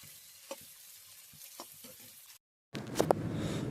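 Tela kucho (kudri) frying in hot oil with turmeric, with soft sparse crackles and stirring scrapes, a brief silence, then a louder, steady sizzle with sharp pops.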